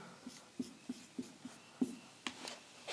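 Pen or pencil marks on paper while notes are written during a current-affairs class: a series of short, soft taps and scratches at an uneven rhythm, close and quiet, with no talking.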